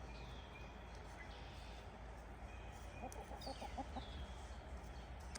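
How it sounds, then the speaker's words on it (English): Black Australorp hens cluck softly in a short run of rapid notes over a steady outdoor hum, faint and somewhat distant. "We also have Maeve and Morgana, who are black Australorps."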